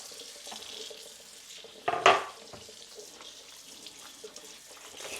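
A British-style tap at a kitchen sink runs cold water. A faint, quiet trickle is broken by one short, louder gush and splash.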